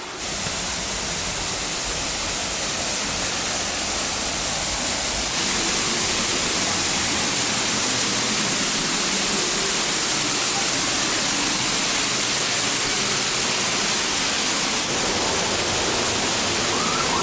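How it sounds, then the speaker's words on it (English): Grotto Falls in the Great Smoky Mountains pours in a loud, dense, unbroken roar of falling water, heard up close with no other sounds standing out. "Well, it's Grotto Falls."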